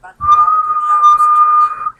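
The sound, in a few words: whistle being blown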